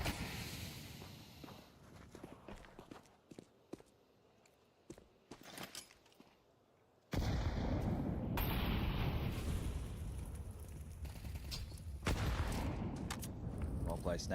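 A grenade blast and gunfire in a Counter-Strike 2 match: sparse sharp shots and clicks at first, then a sudden loud burst of explosion and rattling fire that continues densely to the end.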